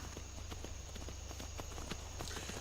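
Horse hooves clip-clop at a steady walking pace in the video game Skyrim, a rapid string of light knocks over a constant hum and hiss, close and moderately loud.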